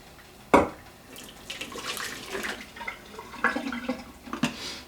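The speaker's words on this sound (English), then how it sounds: "So let that drain out, and that'll give us a good little bed for our coffee." Water draining through a paper pour-over coffee filter: a close, soft trickle and drip with gentle splashing, opening with one sharper knock.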